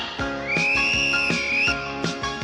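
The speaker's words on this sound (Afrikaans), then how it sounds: "But now he blows the whistle on a Saturday." A referee's whistle sounds in one long, sustained, bright tone lasting over a second, loud and close, over a rhythmic background beat.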